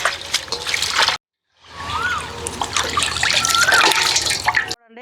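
Bitter gourd pieces are washed by hand in water, close splashing, trickling and sloshing with a brief pause of silence partway through, no talk.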